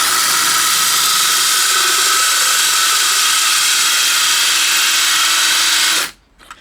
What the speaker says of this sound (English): So now I'm just going to drill through on one side.